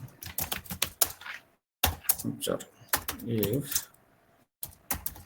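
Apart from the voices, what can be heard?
typing on a computer keyboard, writing a Power BI DAX formula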